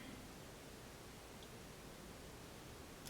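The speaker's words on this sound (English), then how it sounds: "White noise to help me focus." Steady broadband white noise played through headphones, even and continuous at a low level with no voices present.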